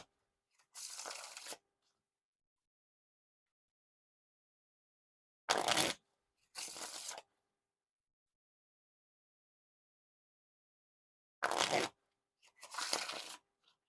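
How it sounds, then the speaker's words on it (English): Three bursts of a bridge or riffle shuffle with small Bicycle Lilliput playing cards: a long riffle near the start, then two paired riffle-and-bridge bursts later, crisp and close, separated by silence. "Now for the Wiffle Shuffle or Bridge Shuffle."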